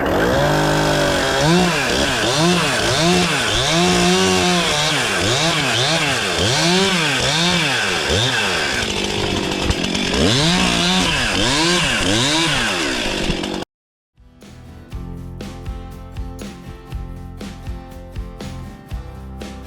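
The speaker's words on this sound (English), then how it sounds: "I'm going to fire up the small chainsaw." A small chainsaw roars close by, its engine rising and falling in repeated revs as it cuts a hedge, then stops abruptly before other sounds take over.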